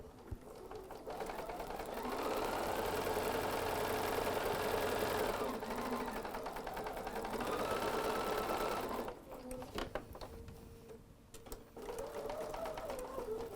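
Sewing machine stitching down the side of a fabric face mask, a steady close whirring run of several seconds that slows and stops, then restarts in shorter bursts, with no talking.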